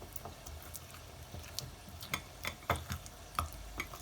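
A spoon mixes food colouring into rice for zarda, making faint, irregular ticking and scraping sounds up close. The taps are soft and there is no talking.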